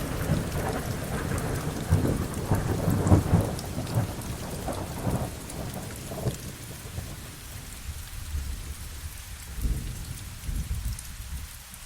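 A thunderstorm rumbles with steady heavy rain hitting pavement, rolling thunder swelling loudest in the first half before easing under the continuous downpour.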